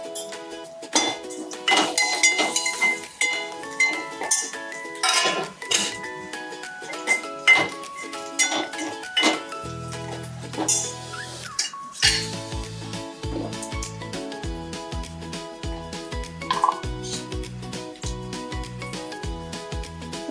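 Spoon clinking against a pot as spices go in for a Maharashtrian gawar rassa bhaji, scattered light metallic taps close by, set against steady music.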